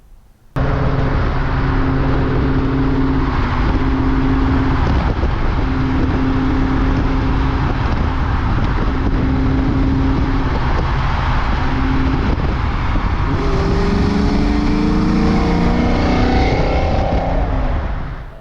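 A 1982 Ford Mustang Foxbody with a swapped-in Coyote V8 drones loudly up close. It holds a steady engine tone with pulsing harmonics, then climbs in a rising rev near the end.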